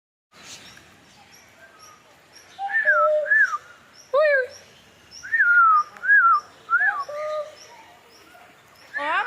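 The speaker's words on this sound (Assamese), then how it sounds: "কুকুৰীয়ে নহয়, পাহাৰীয়া মইনা।" A hill myna at Assam State Zoo in Guwahati gives a string of loud, clear whistles and gurgling calls, delivered in short separate bursts close by against a quiet background.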